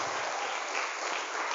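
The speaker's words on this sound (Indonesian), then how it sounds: "Tepuk tangan untuk kita semua hari ini." Applause from hundreds of students at a live Islamic boarding school motivation seminar in Malang, a steady dense clatter of clapping filling the whole stretch at moderate level with no voices over it.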